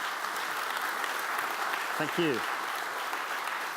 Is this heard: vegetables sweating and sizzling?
no